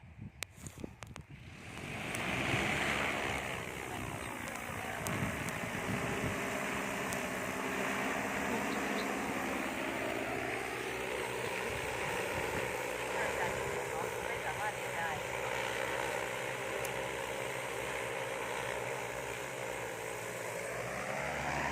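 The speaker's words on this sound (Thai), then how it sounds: "เครื่องบินกำลังบินขึ้นโปรดรักษาระยะห่างของคุณ" A Kubota T10 agricultural spraying drone takes off in a field, its rotors rising to a steady, loud whirring drone that holds for about twenty seconds, with brief talk and a recorded announcement in the background.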